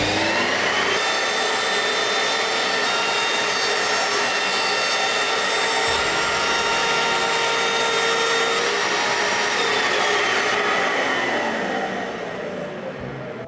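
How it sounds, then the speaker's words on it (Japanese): A power tool whines steadily and loudly for about thirteen seconds while chamfering the edges of a solid-wood base board for a homemade push block jig, with slight pitch shifts as it travels along the edge before trailing off. "最初に切ったねベースの板も面取りしてしまいたいなと思います。"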